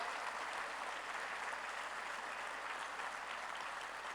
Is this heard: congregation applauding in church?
yes